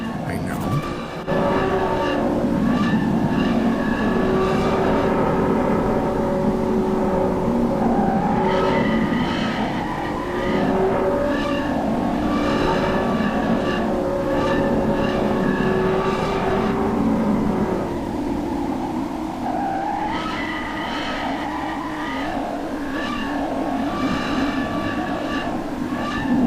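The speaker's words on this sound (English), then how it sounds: "These are the sounds of the stellar wind." Sonified stellar wind rendered as a dense, continuous rumbling roar with shifting tonal whines and hisses that swell and fade over about half a minute, loud and unbroken, with no voices over it.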